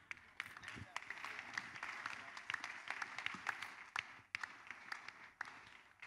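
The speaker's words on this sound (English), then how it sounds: "Applaudissons pour le Seigneur." Clapping breaks out in a church congregation, scattered sharp claps over a busy background with voices talking throughout, moderately loud and uneven.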